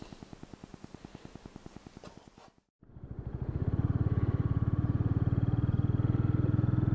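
A Cub motorcycle ticks over with an even putter, cuts out briefly, then restarts and settles into a louder, steady running drone as it heads out onto the road, close by with no voices.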